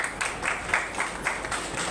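Brief bursts of clapping come in uneven clusters, a modest round of applause at a religious community gathering heard at a slight distance with no voices over it.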